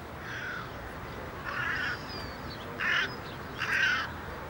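Several crows caw in a Paris botanical garden, four separate raspy bursts spaced across the clip over steady outdoor background noise.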